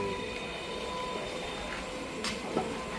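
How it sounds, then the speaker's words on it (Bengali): A train passes at night on a railway line, giving a steady, fairly distant rumble with faint metallic squeal tones and a couple of brief clanks near the end. "দেখেছি ট্রেন"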